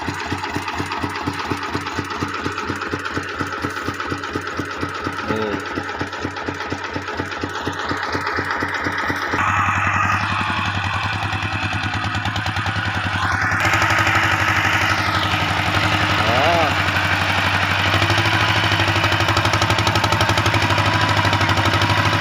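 A small motorcycle engine, bored up from 95 cc to 110 cc, idles with a fast, even putter, then revs up twice in loud rising bursts before settling into a higher, steadier run.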